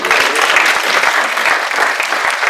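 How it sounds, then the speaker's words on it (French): Steady applause from a seated audience at a French academic study day, honoring administrative colleagues; dense, continuous clapping that fills the room without pause for a few seconds. "je voudrais vraiment qu'on puisse aussi les applaudir"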